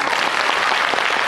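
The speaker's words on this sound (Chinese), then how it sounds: "所以我提议让我们用热烈的掌声给他们预热一下" Audience applause at a youth Chinese opera showcase in Singapore, a dense, steady wash of clapping from a sizable crowd, loud and close, sustained throughout without talk.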